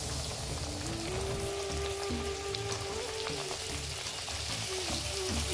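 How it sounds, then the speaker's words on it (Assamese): Puchka (pani puri) puffing as they fry in refined oil at home, with a continuous close bubbling sizzle and faint tonal background, without talk. "এটাকৈ পুচকাবোৰ ৰিফাইণ্ড তেলত ফ্ৰাই কৰি ল'লোঁ"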